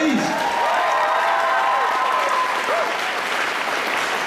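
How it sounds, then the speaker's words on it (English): Sustained audience applause at an anime convention opening ceremony, a loud continuous roar of clapping with some cheering and whoops rising over it throughout. "Another round of applause, please"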